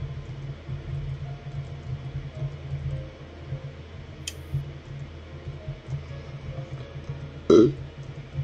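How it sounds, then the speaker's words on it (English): A single short, loud burp near the end comes from a streamer at his desk, set against quiet room noise with a few faint clicks. "I'm sure everybody wants to hear me burp on stream."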